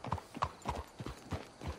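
Horse hooves clip-clop in a steady rhythm in the Red Dead Redemption II video game, about seven moderately loud hoof strikes evenly spaced over two seconds, with no talk over them.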